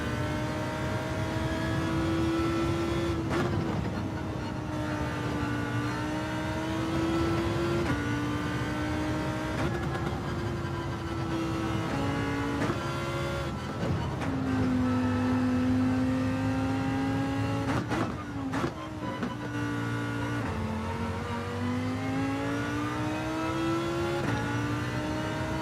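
Race car engines from Gran Turismo 7 drone and rev steadily throughout, pitch rising and dipping as the cars accelerate and shift, loud and continuous with no talk.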